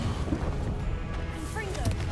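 In the Hogwarts Legacy video game, the Confringo spell sets off booming explosions, a dense rumbling blast texture with crackling and whooshing effects filling the short burst, and a voice briefly speaks over it.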